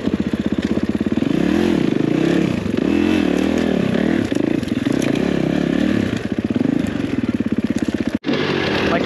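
A Kawasaki motocross bike ridden on an enduro trail, its engine loud and close, droning and revving with rising and falling pitch throughout and a brief dropout near the end.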